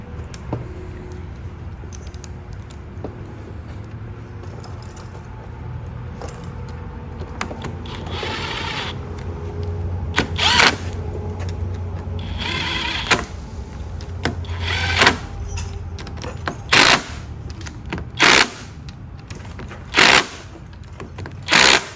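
A part on an XMT 250 welder being tightened by hand to torque spec during assembly, a run of rapid ratcheting clicks and mechanical rattles ending in several sharp, evenly spaced snaps close by, with no talking.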